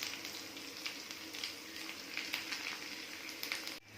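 Dried prawns frying in a pan with onions and ginger garlic paste give a steady, close sizzle with light crackling and stirring, running without pause until an abrupt cut near the end.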